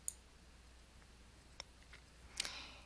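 A few sharp computer mouse clicks, close and quiet, spaced apart in otherwise near-silent room tone.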